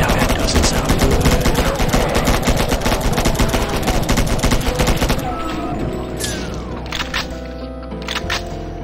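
Rapid automatic assault rifle fire in Doom 2 with the Ultra-Crispy mod, a loud, dense stream of cracking shots for about five seconds, then fading into sweeping whooshes and lower rumbling game sounds with no talking.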